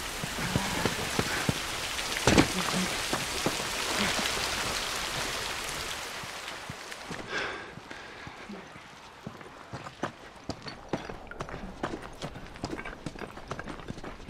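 Steady rain patters heavily on surfaces in The Last of Us video game, with scattered sharp drops and knocks; the downpour thins partway through, leaving lighter irregular dripping.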